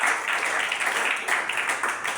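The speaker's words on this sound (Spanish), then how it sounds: "Denle ese aplauso al Señor." Congregation applauding in a church service, a dense steady wash of many hands clapping throughout, fairly loud and close, with faint voices mixed in.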